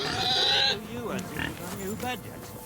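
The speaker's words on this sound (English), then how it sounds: "this piggy here's making some noises" A pig in Kingdom Come: Deliverance II makes several short grunts and squeals, with a voice talking over them.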